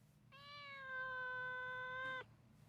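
A cat meows once in an anime episode, a single sustained, tonal cry of about two seconds, clear and close over a low background hum.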